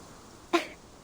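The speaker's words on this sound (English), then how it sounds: "gasp of air chokes her all at once, and she's left coughing uncontrollably" Fatutu, a girl in the video game Reverse 1999, coughs after choking on a gasp of air: two short, sharp coughs about half a second apart, close and fairly loud over a quiet background.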